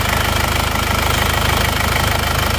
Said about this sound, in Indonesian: Mesin diesel